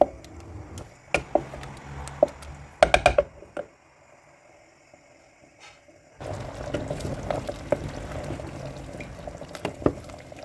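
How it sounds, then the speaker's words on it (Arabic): A pot of Tunisian pasta bubbling on a gas stove over medium flame gives close clinks and sharp taps, a quiet pause, then a steady burst of boiling, bubbling liquid with scattered pops. "تغلي طنجرتي، نعاود نخلطها مرة أخرى"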